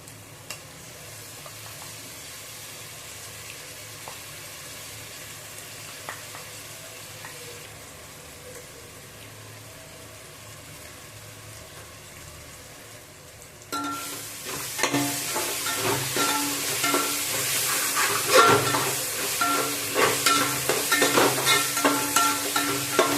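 Tomato and green chili frying in a pan for chicken biryani, a soft sizzle that jumps into a loud, crackling fry halfway through, with stirring clatters close by and no talk.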